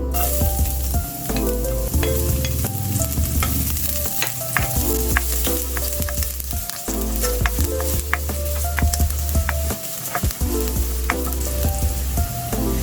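Garlic sizzles steadily in a hot pan, a dense loud frying crackle with scattered pops running throughout, with no voices over it.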